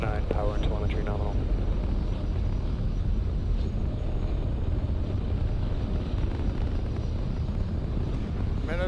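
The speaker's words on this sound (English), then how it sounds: "you saw the liftoff of the Falcon 9 from Space Launch Complex 40" A SpaceX Falcon 9 rocket lifting off from Space Launch Complex 40 on the SES-9 mission makes a continuous, dense, low rumbling roar. A voice speaks briefly over it at the start.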